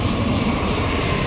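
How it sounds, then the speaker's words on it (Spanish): Low-flying fixed-wing airplane passing overhead near an airport in a park in Tijuana, a loud steady engine roar with no talking. "Ahí viene el avión, miren."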